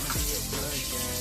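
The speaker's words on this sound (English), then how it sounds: "Here I'm gonna add vinegar." Vinegar poured onto meat soaking in a container, a steady close watery splash and trickle lasting about a second, with no voices.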